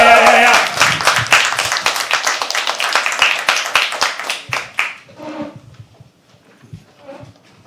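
An audience at a live poetry open mic claps loudly and densely for several seconds, then the clapping thins and fades, leaving scattered claps and a few soft voices.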